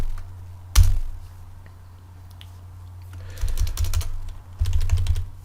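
Someone types code on a computer keyboard in quick bursts of close key clicks. A sharp knock comes first, then a quiet pause before two clusters of rapid keystrokes.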